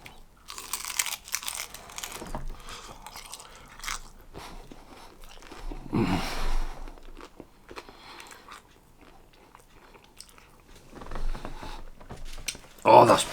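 Crunchy roasted chicken from a hot and spicy chicken and chorizo bake is bitten into and chewed, with bursts of close crunching and mouth noises spread through the clip and brief speech nearby.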